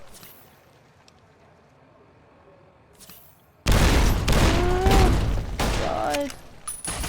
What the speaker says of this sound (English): They've got rocket launchers.